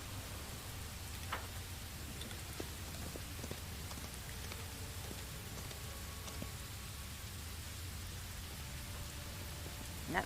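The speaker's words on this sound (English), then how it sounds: "Blood Rain, getting worse up in this place." Blood Rain pours steadily in Pathfinder: Wrath of the Righteous, a soft continuous hiss of falling drops with a few brief spattering ticks, even in level and alone without voices.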